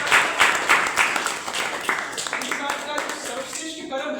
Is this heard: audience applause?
yes